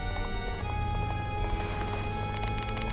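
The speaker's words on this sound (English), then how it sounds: "It sounded like the clop of a horse's gallop." Galloping horse hooves clop in a fast, steady rhythm throughout, in the Death Mark II video game, loud and close with no voices.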